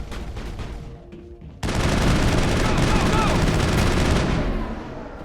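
Gunfire from the video game Mass Effect, a sudden loud burst that stays dense and sustained for several seconds after a quieter stretch, then eases slightly near the end, with faint voices beneath.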